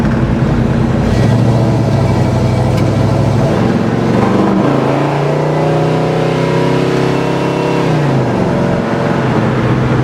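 A 1969 Chevelle SS V8 accelerating while driving, loud and close, revs climbing, dropping at a manual shift, then climbing again before easing off.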